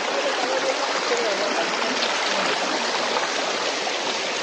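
A stream running over rocks on a rough path, a dense steady rush and gurgle of water heard close and continuous.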